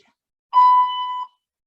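A workout timer gives a single loud, steady electronic beep lasting under a second, then silence.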